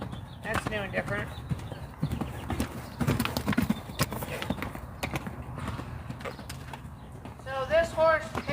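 A horse's hooves clip-clop steadily as the mare paces and trots leftward during a training session, close and clear, with a brief whinny near the end and people talking intermittently.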